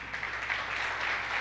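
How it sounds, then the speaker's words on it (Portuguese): Church congregation applauding together during an Easter celebration service, a steady, even wash of clapping held at moderate level without a break, with no voices rising above it. "Amados irmãos, vamos aplaudir mais ao Senhor"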